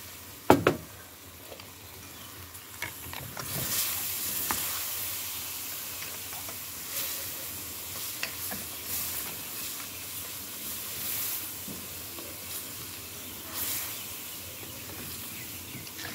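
A hot rock sizzles and hisses in a pan of coconut cream and melted sugar, with a soft steady crackle and several sharper spits and pops, heard close and with no talk.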